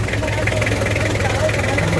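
A vehicle engine runs steadily near the listener with a constant low rumble and a whining transmission hum, loud and unbroken, while people talk over it.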